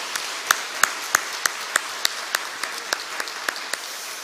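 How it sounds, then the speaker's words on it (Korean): Church congregation applauding during a Sunday worship service, a soft wash of clapping punctuated by distinct sharp claps that land in a fairly regular rhythm, close and without talking. "하나님께 박수를 한번 할까요?"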